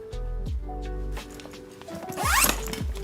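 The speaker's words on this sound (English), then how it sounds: "main access zipper" Main access zipper on a travel bag pulled open in a few drawn strokes, close and crisp, with a faster rasping run near the end.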